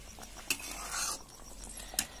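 Paneer pieces cook in a pan with a soft sizzle while a utensil stirs and scrapes, with two sharp metallic clinks standing out over the close, quiet frying.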